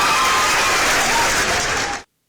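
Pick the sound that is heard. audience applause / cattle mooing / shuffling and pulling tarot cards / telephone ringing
audience applause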